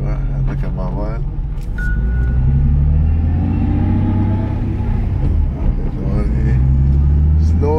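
A Nissan 370Z with a failing clutch slave cylinder rumbles through slow gear changes, its engine pitch climbing and dropping in long sweeps, heard close from inside the car while people talk over it.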